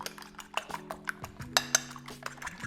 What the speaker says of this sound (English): And then we whisk away.